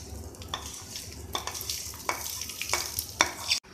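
Hot oil tempering hisses and sizzles steadily for a few seconds as it is poured into ivy gourd (tindora) chutney, with a few clinks of a metal spoon against a pan.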